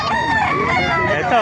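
A rooster crows loud and close in the middle of a busy chicken market. The crow is strained and ragged, and other fowl make sound around it.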